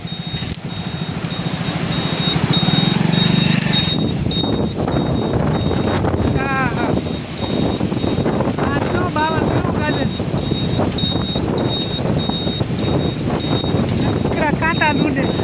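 Strong storm wind gusts through the village of Gordka during rain, a steady loud roar with microphone buffeting throughout, while people talk intermittently over it.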